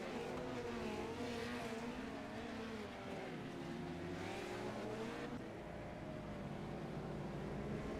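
Dirt track race cars running laps at the indoor Chili Bowl: a continuous, loud, layered engine roar with pitch rising and falling as the cars accelerate and pass, steady with no pauses.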